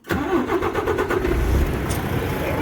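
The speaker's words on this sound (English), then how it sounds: "I'll start the engine up again." A truck engine cranks and catches, then settles into a steady, loud, close idle that runs on alone without talk.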